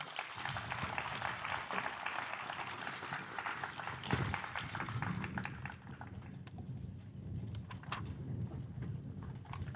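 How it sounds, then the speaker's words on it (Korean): Audience applause fills a ceremony commemorating the 131st anniversary of the Donghak Peasant Revolution, welcoming a performance; steady, dense clapping runs loud and unbroken for about ten seconds with no voices over it. "여러분 큰 박수로 맞이해 주시기 바랍니다"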